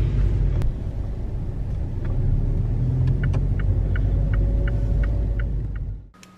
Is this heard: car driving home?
yes